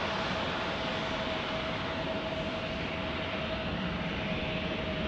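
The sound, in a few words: JetBlue airliner landing in crosswind at San Diego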